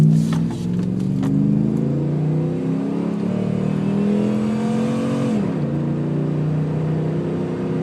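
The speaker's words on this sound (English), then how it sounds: "That was just kind of a wide open throttle." A Dodge Ram pickup truck with a 4.7 engine accelerates at wide open throttle, a loud steady engine roar climbing in pitch, dropping briefly at a gear change around five seconds, then pulling again.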